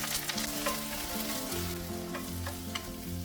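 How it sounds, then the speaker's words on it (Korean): Sliced napa cabbage sizzles in perilla oil in a pot, a steady close frying crackle with occasional stirring clinks and scrapes. "냄비에 들기름 1큰술 두르고 썰어둔 배추를 넣고 배추가 숨이 죽을 때까지"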